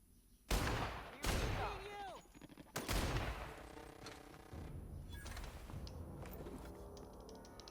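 Gunfire in The Outer Worlds video game: three loud, sharp shots about a second apart, each with a ringing tail, followed by quieter mechanical clatter and background game sound.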